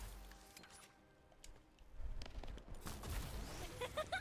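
Gunfire in a free-to-play video game crackles in scattered bursts of sharp shots, quiet at first and then growing louder and denser toward the end.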